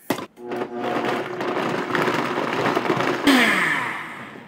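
A Vitamix blender spins up on cashew milk vegan eggnog, a rising motor whir that grows louder and changes tone near the end as the speed increases, close and with no talking.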